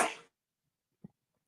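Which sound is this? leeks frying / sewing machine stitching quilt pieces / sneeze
sneeze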